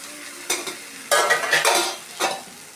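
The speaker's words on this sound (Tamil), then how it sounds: "ஊற்றிட்டு அப்படியே கிளற வேண்டியதான்." A dissolved mixture poured into a frying pan of well-sautéed ingredients and stirred, giving several short scraping, sizzling bursts of stirring close by, with no talking.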